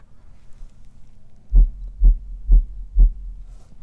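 Subwoofer playing a slightly distorted test tone as four evenly spaced, deep bass thumps, each short and booming over a faint low hum.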